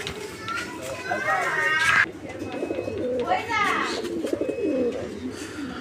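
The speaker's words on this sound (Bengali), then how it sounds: "এরপরও যে কবুতরটা বাইরে আইসা ডাকতেছে" Pigeons coo outdoors in repeated low, throaty calls, large birds held outside in a yard; distant children's voices and background noise run underneath.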